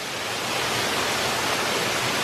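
A waterfall roars steadily and loudly throughout, a dense unbroken rush of falling water with no voices over it.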